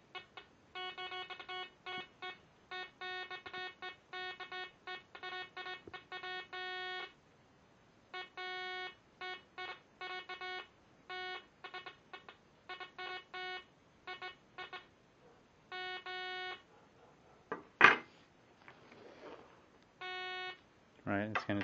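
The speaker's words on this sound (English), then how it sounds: "of course you're going to get a beep noise, right?" A new metal detector set with sensitivity turned all the way down, emitting rapid bursts of electronic beeps in repeated groups with short gaps between. Someone speaks briefly near the end.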